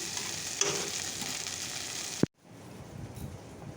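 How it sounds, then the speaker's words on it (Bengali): Okra frying in a pan at home, a steady hissing sizzle with a faint stir about a third of the way in, cut off abruptly by a sharp clack before quieter low rumble. "এটা হচ্ছে ভেন্ডি ভাজাটা এটা হতে থাক"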